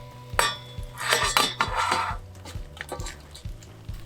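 Vegetables sautéing with tomato purée and shrimp shells in a pan for sauce américaine, with repeated utensil scrapes and clinks against the pan over a soft sizzle, close and fairly loud, no talking.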